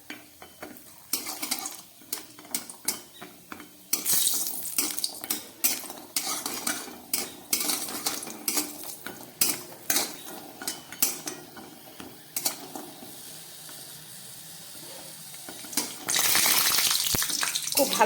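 Homemade lentil badi fry in oil in a pan with a broad, steady sizzle, punctuated by frequent sharp clinks and scrapes of a spatula against the metal.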